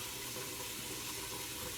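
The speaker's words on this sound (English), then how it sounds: "I want to make sure I get all that water out of it." Water from cooked sweet potatoes pours off steadily while they drain in a kitchen sink, a continuous close rushing splash with no break and no voices.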